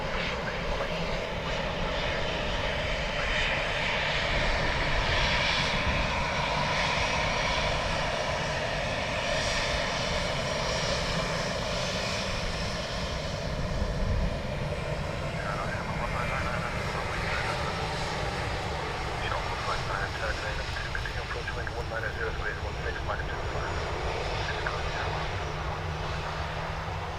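An airliner lands on runway 28 left at Dublin Airport, its engine roar loud and sustained throughout, with a steady broadband rumble that shifts slightly in tone as it passes.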